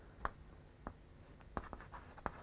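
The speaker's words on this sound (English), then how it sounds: "I will write down on the board." Chalk or marker strokes on a classroom board during a junior physics lesson, heard as a few separate scratchy taps and short strokes spread apart, close and moderately clear, with no talk.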